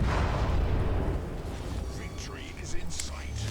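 World of Warships torpedo hits against an enemy ship: a heavy, booming explosion rumbles at the start and slowly fades, with a voice talking faintly underneath.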